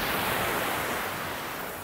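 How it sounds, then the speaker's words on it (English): Ocean surf washes ashore at a beach in Phuket, Thailand, a broad continuous rush of breaking water that slowly eases off, close and steady with no talking. "there go that damn water again"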